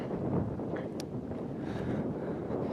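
Steady mountain wind in Auvergne buffeting a microphone, a broad low rumble that stays constant throughout with no clear pauses.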